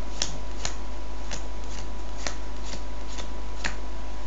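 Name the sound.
playing cards being counted out into a pile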